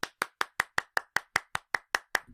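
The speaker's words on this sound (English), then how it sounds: "round of applause to everybody" Someone in a first aid and CPR training class claps in an even, steady rhythm of about a dozen sharp, close claps, with no voices.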